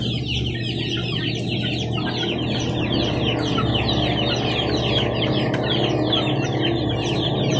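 Chicks and grown chickens cluck and peep steadily at feeding time, a dense, continuous flock chatter with overlapping calls throughout.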